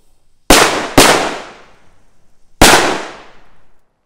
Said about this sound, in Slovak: A poďme si odpáliť túto trojicu.